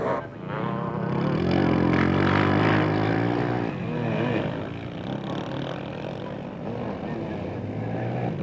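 A 4-stroke ATV engine races through a forest during a GNCC cross-country event, a steady loud throaty roar that rises and holds with shifting revs, continuous for the whole stretch with no talk over it.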